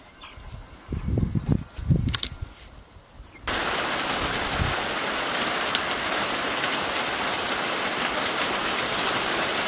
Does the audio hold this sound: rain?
yes